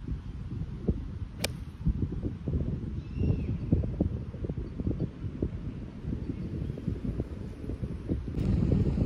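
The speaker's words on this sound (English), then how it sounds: "the wind is just absolutely killing it today" Gusty wind on an open golf course, buffeting the microphone as a low continuous rumble with irregular thumping surges, plus a brief faint whistle and a sharp tick, no talking.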